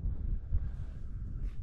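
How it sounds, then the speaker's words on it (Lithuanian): Strong mountain wind blows in a steady low rumble against the microphone, with gusty buffeting and faint rustling, nearby and fairly quiet overall. "čia vėjas traukia labai stipriai"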